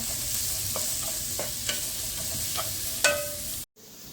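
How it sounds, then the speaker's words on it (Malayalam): Half a kilo of green peas sautéing in a pan: a soft, even sizzle with a string of light scraping and clicking stirring strokes, then a sudden brief cut near the end. "നമ്മൾ ചെറുതായി വഴറ്റി കൊടുക്കുക."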